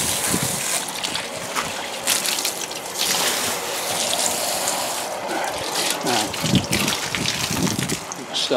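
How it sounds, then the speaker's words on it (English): Hose water spraying and rinsing the coil of a split system condenser unit, a steady broad gushing wash with a continuous close splashing hiss throughout, with some talk underneath. "This is kind of just a quick coil rinse."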